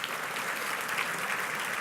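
Audience applause at a summit luncheon, a steady wash of clapping from a seated crowd, moderately faint and brief, with no talk over it.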